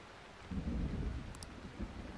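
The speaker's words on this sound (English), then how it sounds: "Oh my god, it's raining as well?" Soft steady rain with a low rumble of thunder rolling underneath in the video game Persona 5, fairly quiet and brief, no voices.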